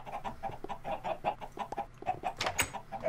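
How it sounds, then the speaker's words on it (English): Chickens in the video game Minecraft clucking repeatedly in a busy, overlapping cluster, several birds close by with steady short calls throughout. "We have a lot of chickens."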